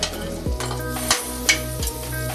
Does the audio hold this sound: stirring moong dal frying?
yes